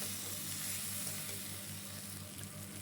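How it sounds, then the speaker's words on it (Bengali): Chicken patty filling with sauce sizzles and fries in a pan as it is stirred, a steady close hissing crackle holding evenly at low volume throughout, with no talking. "এটিকে আবারও খুব ভালো করে একটু নাড়াচাড়া করে ভেজে নিলাম"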